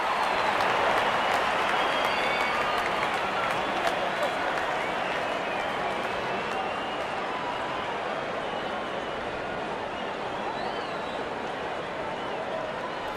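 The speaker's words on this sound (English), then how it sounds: "Crowd is enjoying every bit of this action." Large crowd at an England versus West Indies T20 World Cup cricket match, a sustained broad roar of cheering and applause that fades gradually over several seconds, with a commentator talking over it.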